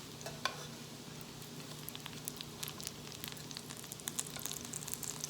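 Broccoli latkes fry in avocado oil in a pan, with a steady close sizzle and dense crackling pops and spits that grow slightly busier over time.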